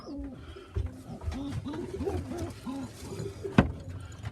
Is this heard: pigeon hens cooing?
yes